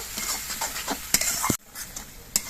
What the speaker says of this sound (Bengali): এবার সব কিছু দিয়ে আমি কিছুক্ষণ কষিয়ে নেব।